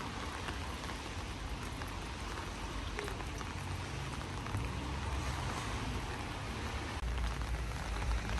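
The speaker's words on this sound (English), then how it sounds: "The rain has joined us." Rain falling outside a 500-year-old English countryside cottage, a dense, even hiss of drops with a low rumble underneath, steady and fairly quiet, with no voices.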